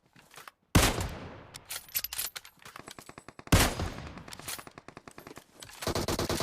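Automatic gunfire in the mobile game PUBG Mobile crackles in two long, rapid bursts of loud shots, separated by brief pauses and trailing into more fire at the end.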